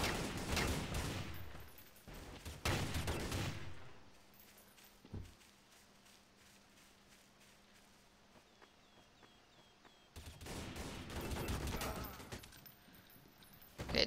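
Gunfire in Counter-Strike: Source, with two loud bursts of rapid shots at the start and a quieter, sparse stretch in between before another heavy volley near the end.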